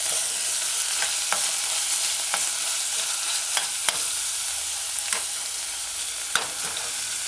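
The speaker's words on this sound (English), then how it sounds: "Stir it in to the vegetable side of the saucepan." Garlic and vegetables sautéing in a saucepan for a spicy chicken tomato stew, a continuous close sizzle broken by several crisp spoon scrapes and taps against the pan, no voices.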